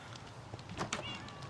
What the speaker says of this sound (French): on va s'abriter un peu avec notre magnifique chat qui n'a pas de nom encore